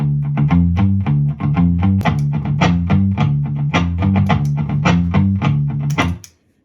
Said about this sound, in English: Let's try a bass line that sounds like this.